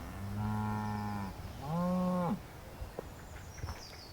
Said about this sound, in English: Capturing some cows, just grazing, enjoying life.